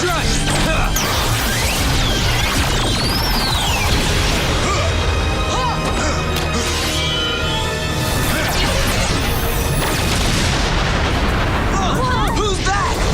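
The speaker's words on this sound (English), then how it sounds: "Cannon blast mode." Loud, continuous booming cannon blasts and crashing impacts from Power Rangers Samurai fill the clip, dense and chaotic, with sweeping whooshing effects layered over the roar.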